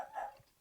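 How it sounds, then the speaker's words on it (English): A pet dog barks and whimpers somewhere in a house, a brief, faint yelp heard at a distance in the background. "sorry if you hear my dog barking in the background."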